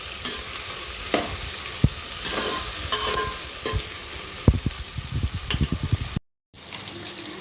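Ginger garlic paste stirred into a hot sizzling pan while cooking meal maker pulao, a constant frying hiss with repeated scraping spoon strokes, close and clear, ending in a brief cut to silence.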